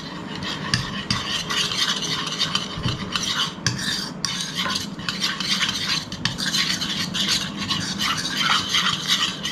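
Soy sauce is stirred into a vegetable Manchurian batter in a bowl, giving a steady, close wet scraping and mixing with repeated spoon clinks and rubbing strokes throughout, and no talking.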